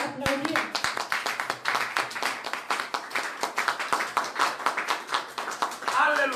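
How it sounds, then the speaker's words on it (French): A church congregation claps in dense, sustained applause with no clear rhythm, loud and close throughout, with voices mixed in. "Können wir für ihn applaudieren?"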